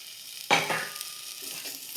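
Moringa leaves and cooked green gram being stirred in a pan for a thoran stir-fry, a sudden scrape and rustle followed by a soft fading sizzle and a second stroke near the end.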